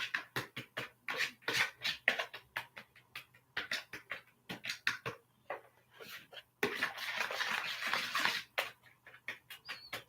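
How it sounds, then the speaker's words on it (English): Bananas mashed to a thick paste with a fork, no masher or blender: quiet, close, irregular scraping and tapping of metal against the bowl in quick repeated strokes, with a longer continuous rubbing stretch near the end. "So we're still mashing the bananas to a thick paste."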